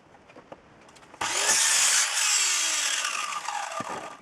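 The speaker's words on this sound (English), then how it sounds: "size the slats with a chop saw" A chop saw spins up and bites through wooden slats, a loud sustained whine for a few seconds that drops in pitch as it cuts, then winds down.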